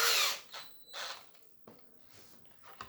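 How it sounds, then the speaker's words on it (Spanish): Power drill with a 3 mm bit boring a pilot hole for hidden furniture-assembly screws, heard as a short high whine at the start followed by a few brief lighter bursts, fairly close and on its own. "con el taladro perfectamente recto, despacio, con tranquilidad, hacemos el agujero"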